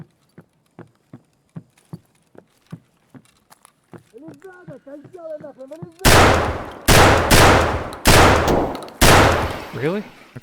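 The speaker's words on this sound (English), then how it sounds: "I'm pushing him with a shotgun" Footsteps tap steadily before a short voice, then four loud, booming shotgun blasts in Escape from Tarkov land about a second apart, each one heavy and close with a trailing echo.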